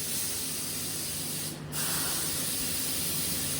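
A spray gun laying the last coat of primer sealer on a 1968 Pontiac Firebird in a home garage, a continuous close hiss with a brief break partway through before spraying resumes.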